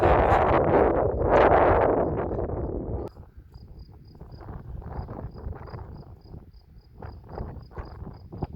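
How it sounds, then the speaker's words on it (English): Strong wind buffets the microphone outdoors at a battlefield site, loud and roaring for about three seconds, then drops to lighter gusts while a faint rhythmic insect chirp repeats in the background. "That wind's pretty strong. Yeah, that wind's horrendous."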